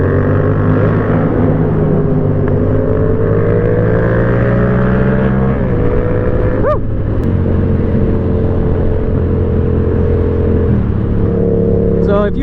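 Yamaha FZ-07 motorcycle engine running steadily with a droning harmonic tone that shifts pitch a few times, under constant nearby background noise.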